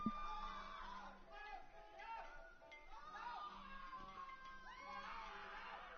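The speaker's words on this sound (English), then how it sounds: "the band starts playing the most cacophonous noise I've ever heard" A band in the Dream Daddy game plays a cacophonous, screaming noise of shrill, wavering vocal wails over a low steady drone, continuing without a break.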